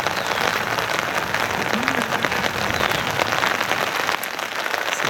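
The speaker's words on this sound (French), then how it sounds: "Ouais, on joue sous la pluie." Rain falls steadily during a youth under-14 boys' soccer match between AS Brossard and Optimum Victoriaville, making a dense, even hiss on the surfaces around the field.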